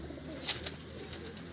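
Pigeons coo softly on a friend's rooftop, a few low murmuring calls against quiet background noise.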